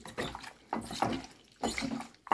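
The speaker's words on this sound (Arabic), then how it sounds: "نحط عليها ميه وانقعها شويه" Water poured over raw chicken wings in a bowl to soak with salt and lemon, in three splashing, gurgling pours separated by short pauses, close and fairly loud.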